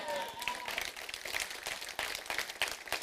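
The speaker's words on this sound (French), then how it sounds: "Est-ce que je peux entendre l'Église qui acclame le Seigneur?" A church congregation applauds and cheers in praise of the Lord, with steady crowd clapping and scattered shouts filling the room throughout.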